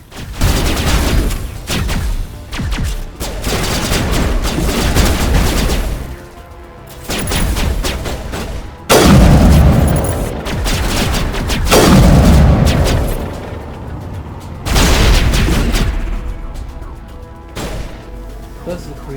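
Grenade explosions in the video game Mass Effect 1 Legendary Edition, several heavy booming blasts in bursts with crackling debris between them, loud and close amid ongoing combat noise.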